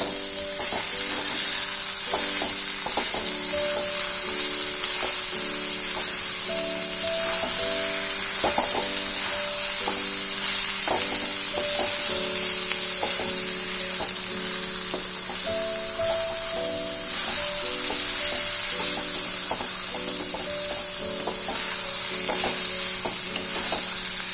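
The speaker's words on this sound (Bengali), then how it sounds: "এবার নুন আর চিনিটা ভালো করে বাঁধাকপির সাথে মিশিয়ে নেব।" Shredded cabbage sizzles steadily in a pan with salt and sugar mixed in, a constant fry hiss broken by repeated scraping and clinking of a spatula stirring throughout, close and continuous with no talk.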